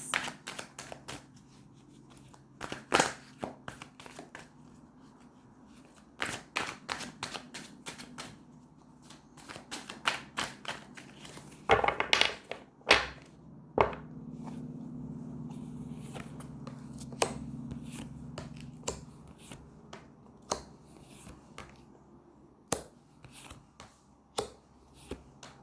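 Tarot cards being shuffled by hand, bursts of quick riffling and tapping separated by pauses, close and fairly loud in a quiet room.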